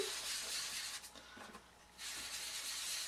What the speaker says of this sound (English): we're going to use Pear Pizzazz ink to do our sponging and one of our sponges